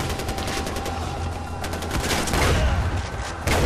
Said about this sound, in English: this goddamn gun has so much kick to it